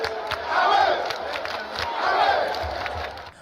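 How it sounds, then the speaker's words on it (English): A vote-day crowd at a party election erupts in loud, surging cheers and jeers, swelling in two big waves of massed shouting that rise and fall over a few seconds. "The ecstatic crowd sometimes cheered and booed some candidates."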